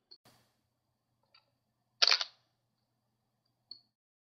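A camera mounted on a tripod with a 17–85 mm zoom lens fires its shutter for an exposure: one crisp, close mechanical clack, surrounded by a few faint small clicks in an otherwise silent room.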